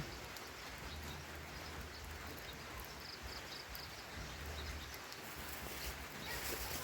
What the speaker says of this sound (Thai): ฝนตกลิน